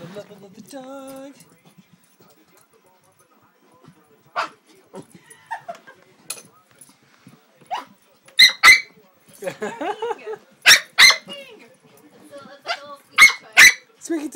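A small pet dog barks in a home, sharp high-pitched yaps in quick bursts alongside whimpers and squeaks, with people talking in between.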